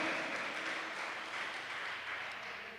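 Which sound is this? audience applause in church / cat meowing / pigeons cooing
audience applause in church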